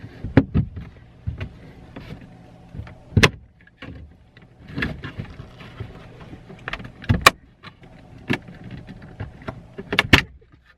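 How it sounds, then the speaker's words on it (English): A plastic shifter console trim ring is worked loose by hand and snaps off its clips, giving scattered sharp close clicks and pops between softer rubbing and handling noises. "It does have some clips underneath here you guys can see, and then it just pulls right up."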